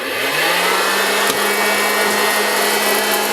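An electric popcorn popper's internal fan whirs up to speed and holds a steady, loud, close-up drone with a rushing airflow hiss, heard alone.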